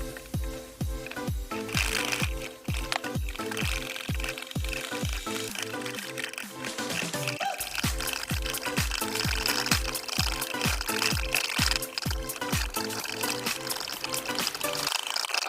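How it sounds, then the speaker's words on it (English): Sauce being mixed by hand while clarified butter is slowly poured in, heard as a fast, steady run of close rhythmic whisking clicks and wet sloshing with a faint pouring trickle, no talk. "Just continue to slowly add our butter, clarified butter, and mix."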